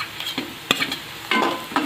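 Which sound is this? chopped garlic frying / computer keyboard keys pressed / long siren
chopped garlic frying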